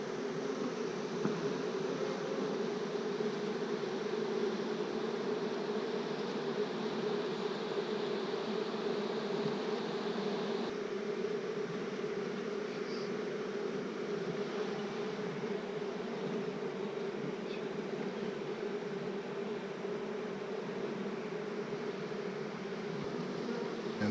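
Honey bees swarm around an Apimaye hive during a transfer into a new box, a dense, continuous buzzing hum that stays steady and close throughout with no voices.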